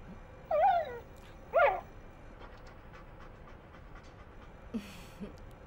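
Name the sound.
dog panting, from the animated series Cowboy Bebop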